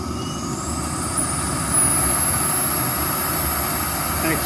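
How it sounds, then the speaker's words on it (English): A small supercharger fitted to a diesel heater's inlet manifold whizzes with a high steady whine over a loud constant roar, rising slightly partway through and running continuously. "I've also put a little supercharger on the inlet manifold. You can hear that whiz away."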